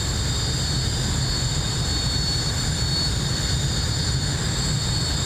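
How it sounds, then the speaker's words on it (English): An airplane in a flight simulator game taking off from runway 21, a loud steady engine roar with a constant high whine held over it throughout, no voices. "Righto, taking off runway 21."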